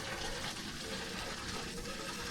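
A farm water pump fills a line feeding an irrigation pivot, giving a steady, low, continuous rush of flowing water with no pauses.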